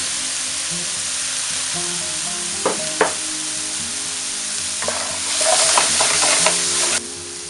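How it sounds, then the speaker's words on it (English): Porcini mushrooms go into a hot pan for gnocchi with Italian sausage, bringing up a steady sizzle with a few sharp utensil knocks and a brief louder burst of frying, up close and without talk. "Then we'll add in our porcini."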